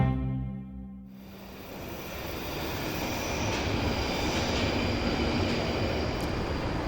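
A train at London Euston station, a steady rumbling roar that swells in after a quieter start and then holds loud and constant, with a faint high whine above it.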